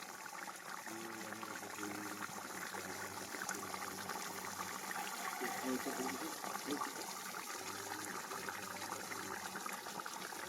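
Monitor lizard adobo simmering in coconut milk, a steady bubbling boil with low gurgles heard close and continuous under faint background noise.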